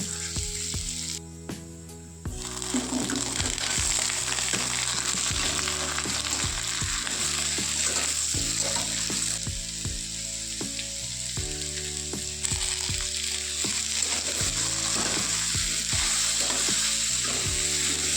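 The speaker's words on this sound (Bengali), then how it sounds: "পেঁয়াজগুলো অল্প অল্প ভাজা হবে, তারপর আলু আর নুন দিয়ে দেব" Continuous sizzling of onions and potatoes frying in oil, with repeated scraping and stirring knocks from a utensil against the pan.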